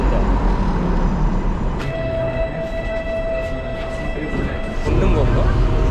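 A Budapest tram runs on its rails with a steady low rumble, a sustained electric whine and a short bell-like ring, while people talk nearby.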